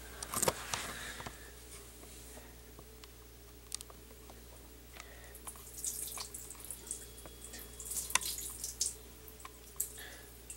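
Baking soda water poured over dreadlocks in a bathroom sink, with scattered splashes and drips, a low steady hum underneath, and sporadic wet patters and taps growing busier toward the end.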